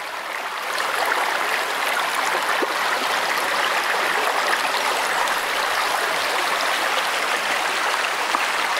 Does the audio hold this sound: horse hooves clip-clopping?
no